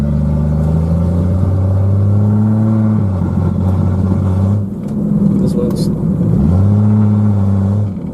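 Engine of a 1991 Jeep Cherokee revving and breaking up above about 3,000 RPM: a loud, close, sustained drone that holds steady, dips midway, then climbs again, with a rough, uneven texture.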